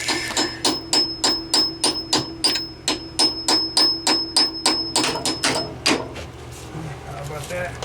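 Rapid, regular metallic hammer strikes on a chisel ring out close by, breaking out cast iron sewer pipe, about twenty blows in a steady rhythm before slowing and fading into quiet.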